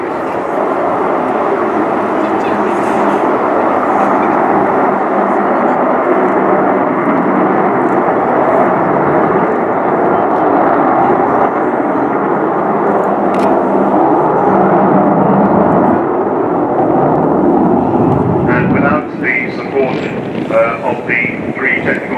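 Avro Vulcan XH558 delta-wing jet bomber at the RIAT 2015 airshow, a loud sustained engine roar with wind buffeting the microphone, easing slightly near the end.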